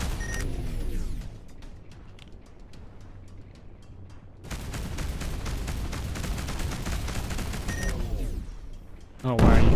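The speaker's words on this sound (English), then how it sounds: "I'm gonna start straight away with a nuclear missile." Nuclear missile launch in the space game Between The Stars: a loud booming blast opens, rumbling and crackling continue, then a second heavy burst sustains a roar before a final sharp boom at the end.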